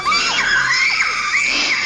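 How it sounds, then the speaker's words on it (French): A person screams in panic, loud and shrill, in repeated rising and falling wails that fill the whole short stretch. "Un membre du binôme était en train de crier comme pas possible"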